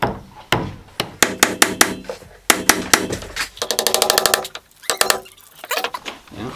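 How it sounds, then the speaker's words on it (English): A hammer strikes wood repeatedly, sharp knocks in irregular bursts with a quick flurry of rapid taps partway through, close and loud. "I have a real hammer"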